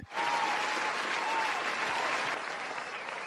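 A live show audience gives a sustained round of applause, dense and steady for several seconds before thinning slightly near the end, with a faint voice briefly audible beneath.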